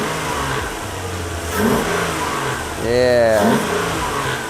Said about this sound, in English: we're gonna get a sound clip for you guys of some revs and stuff